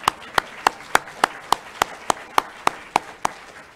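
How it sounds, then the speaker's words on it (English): Applause from a graduation audience at a university ceremony comes through as a steady, regular train of about thirteen sharp claps, evenly spaced and fairly close. No voices are heard. "let's do another big round of applause for everyone in the room"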